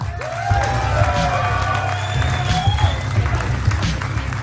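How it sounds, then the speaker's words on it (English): A crowd at the 2016 Clash Royale tournament semifinals in Helsinki claps and cheers, with scattered whoops and shouts rising above the applause over a low background rumble. "ladies and gentlemen, one more time, a round of applause"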